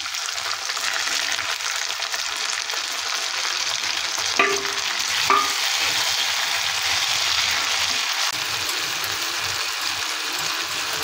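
Onions fry on a high flame until golden brown for a dhaba-style chicken bharta, making a dense, constant sizzle and hiss, with a couple of brief utensil clinks partway through.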